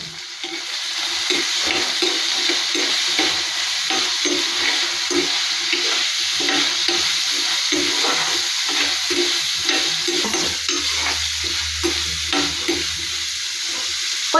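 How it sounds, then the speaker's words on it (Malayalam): Shallots fry in hot oil for a Kerala-style prawn roast, a loud close sizzle that carries steadily throughout. Repeated scraping and stirring strokes run through it, with no talking. "കൊച്ചുള്ളി ഇടുന്നു"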